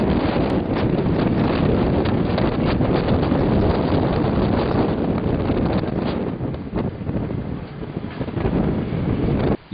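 Strong lodos wind in İnegöl, Turkey roars and buffets the microphone continuously, a loud steady rush with gusting surges and no voices.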